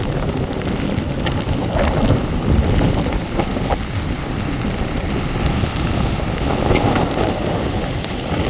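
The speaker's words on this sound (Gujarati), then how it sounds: "આ મેઘલ અને વરસાદ નથી લાગતો આપણે તો લાગે એવો વરસાદ" Steady rain and gusting wind roar continuously at the seashore, a dense, loud wash of noise buffeting the microphone with no voices heard.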